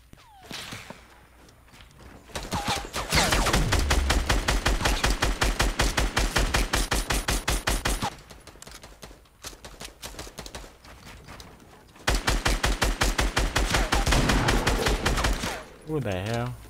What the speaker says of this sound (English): They're shooting you down.